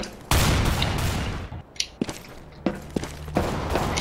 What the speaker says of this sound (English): Stop trying to throw grenades at my dramatic camera